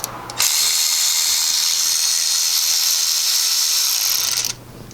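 A power tool drives out the thermostat screws on a 2014 Maserati Ghibli, giving one steady, loud, close whirring buzz that runs for about four seconds and then stops, with no talking.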